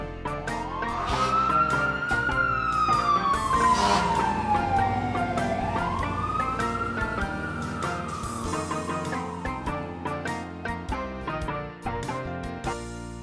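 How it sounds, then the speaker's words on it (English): A fire engine siren wails nearby, rising and falling in one long sweep before settling into a steady tone, heard alone over background rumble. "Fire engine."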